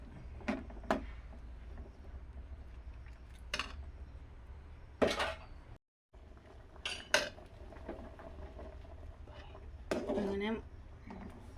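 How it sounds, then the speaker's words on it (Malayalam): Ground coconut paste added to a cooking pot for kalan, with spoon clinks and scrapes against the metal pot, a few sharp knocks spaced out over a quiet kitchen background. "നമ്മൾ നാളികേരം അരച്ചത് അതിലേക്ക് ചേർക്കുകയാണ് കേട്ടോ"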